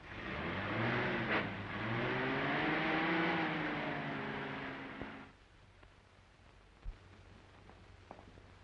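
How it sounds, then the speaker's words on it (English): Car engine heard from inside a moving 1930s-era car, a steady droning hum with rising and falling pitch as it revs, loud for about five seconds before cutting to quiet background with a couple of faint knocks. "I think you'll find it much more comfortable riding in this car than in a taxi."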